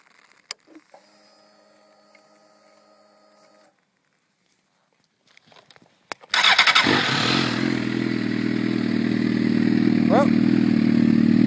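Loud, steady motorcycle engine roar from a 2009 burgundy and black Suzuki GSX-R 1000 fitted with a Power Commander and BMC filter, starting abruptly after quiet clicks and idling with a brief rev near the end.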